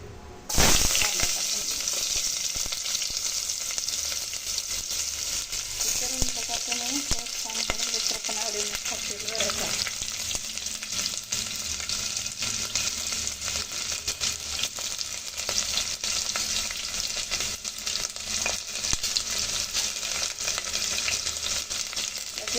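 Whole spices frying in hot oil, making a steady crackling sizzle that holds for a long stretch, with occasional stirring clinks and scrapes close by.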